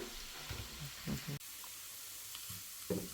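Carrots sizzle steadily as they fry in a pan for stuffed cabbage rolls, with a few louder stirring clatters breaking through the continuous hiss.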